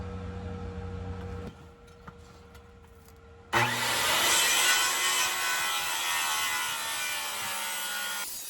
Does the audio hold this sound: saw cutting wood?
yes